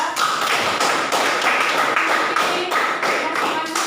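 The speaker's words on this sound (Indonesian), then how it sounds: "berikan tepuk tangan untuk mereka" Classroom applause for a student group, a dense burst of clapping with rhythmic, pulsing claps, close and loud, repeating in regular beats through the whole stretch.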